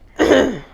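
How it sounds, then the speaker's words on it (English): A single close, loud throat clearing, one short rough rasp lasting well under a second in a quiet room. "Clear your throat for it."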